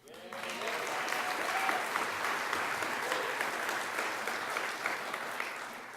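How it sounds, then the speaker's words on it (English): Audience at a gala celebration applauds steadily for about six seconds, a dense, sustained wash of clapping from a large crowd that starts abruptly and holds even throughout. "I guess we can all clap for this one"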